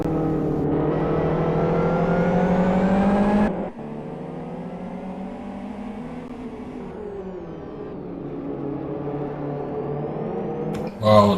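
GT race cars circle a track during a 24-hour endurance race, engines whining and rising in pitch as they pass, then a lower engine drone carrying on with shifting pitch and a sharp burst at the end.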